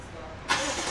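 A BMW X6 fitted with a whole new exhaust system starts up halfway through, a sudden loud burst of engine noise rising out of a quiet background and settling into a steady, close, broad roar.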